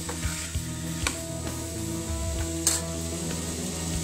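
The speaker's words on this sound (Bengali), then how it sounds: "আমি ভালোভাবে নাড়বো, কারণ তেলগুলো যাতে আলুগুলোর সাথে ভালো করে মিক্স হয়" Potatoes fry in oil in a pan while a spoon stirs them, giving a steady sizzle broken by occasional clinks and scrapes of the utensil.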